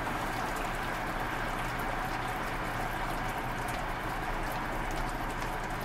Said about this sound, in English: it totally sounds like it's boiling